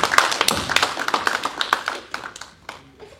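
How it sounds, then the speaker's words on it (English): An audience at a comedy show applauds with a dense patter of clapping that is loud at first and then thins out and fades over a few seconds. "Can we get a round of applause for Lane?"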